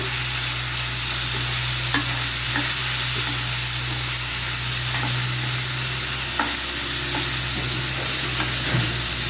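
Fresh grated coconut stirred in a frying pan for a Telugu ridge gourd and coconut curry, a steady sizzle with scraping spoon strokes at a close range and no talking.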